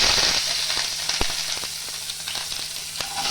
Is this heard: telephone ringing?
no